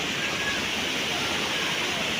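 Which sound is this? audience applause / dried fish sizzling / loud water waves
loud water waves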